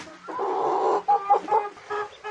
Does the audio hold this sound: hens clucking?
yes